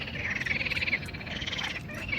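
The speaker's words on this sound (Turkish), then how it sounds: "Kurbağalı sesleri dinliyoruz." A dense chorus of frogs croaking continuously, a steady pulsing trill filling the background with no voices.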